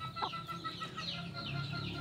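Chickens (hens) clucking in a farmyard, a steady chorus of overlapping clucks and short calls close by, with no talk.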